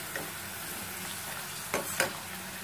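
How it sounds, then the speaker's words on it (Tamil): Tapioca chips deep-fry in oil and are stirred until brown: a steady, soft sizzle with a few scraping stir strokes, two of them close together near the end. No one speaks. "இந்த மாதிரி ப்ரௌன் ஆகிற வரைக்கும் அப்படியே கொஞ்சம் கிளறி விட்டுட்டே"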